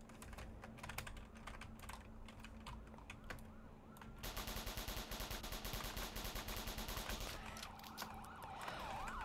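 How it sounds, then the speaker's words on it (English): Gunfire in a Roblox ERLC police roleplay game, fast repeated shots heard alongside a wailing police siren and the clatter of keyboard typing, forming a dense and fairly quiet mix with no speech. "Shots fired! Shots fired! Shots fired!"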